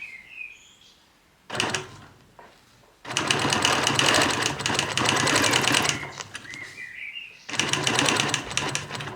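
Sewing machine quilting a block with a Petunia ruler: three bursts of rapid stitching, a short run, then a long steady run and a final burst, separated by quiet pauses with faint chirps.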